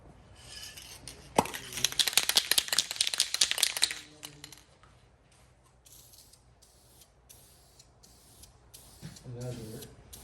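An aerosol spray can hisses in a loud burst for a couple of seconds while spray painting parts of a Pontiac Firebird build, then falls quiet amid light clicks and a soft voice.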